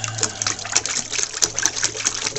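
Water gushes steadily from a tap while rinsing a pet dove during a bath, a close, continuous splashing rush with no pause.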